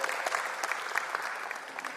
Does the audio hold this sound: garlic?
no